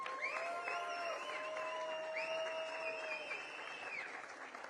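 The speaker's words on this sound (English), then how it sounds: "let's have a big cheer, please, for birthday boy" A crowd applauds and cheers a race winner on the podium at the Vila Real round of the 2025 Kumho FIA TCR World Tour, a distant, faint wash of clapping under drawn-out tonal sounds.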